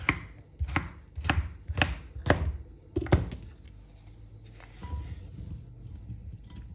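Knife chopping vegetables for a Greek salad on a cutting board, a run of about seven evenly spaced sharp chops, then quieter handling sounds, close and without talk.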